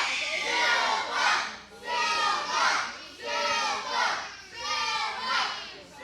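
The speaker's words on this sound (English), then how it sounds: "Pro South faithful getting behind Silva. Trying to cheer him on." A pro wrestling crowd chants and cheers for Eric Silva during his match with Chris Kamikaze, the voices swelling in five steady rhythmic surges, loud and massed, with children's shouts mixed in.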